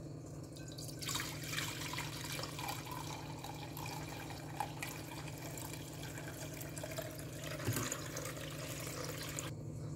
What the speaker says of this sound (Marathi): वरचं पाणी काढून घ्यायचं आहे।